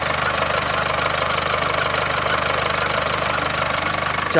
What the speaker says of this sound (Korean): 보신 것처럼 규칙적인 엔진음을 들을 수가 있었고요